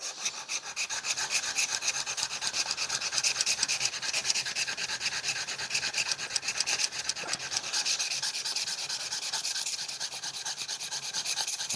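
The back of a steel chisel is being flattened on sandpaper, making a rhythmic, continuous, close-up rasping as it is rubbed back and forth in quick, even strokes, with no voices.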